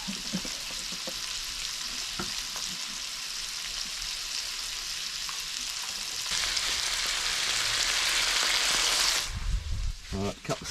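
Steaks frying in a pan at night while fishing from a boat out on the ocean, a steady close sizzle and crackle that swells louder toward the end, with a short burst of talk right at the finish.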